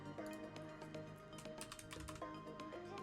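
Rapid keystrokes clatter on a computer keyboard in irregular bursts, fairly faint and mixed into steady background music.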